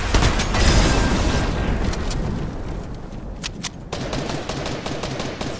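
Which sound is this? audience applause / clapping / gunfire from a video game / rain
gunfire from a video game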